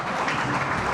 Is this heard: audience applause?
yes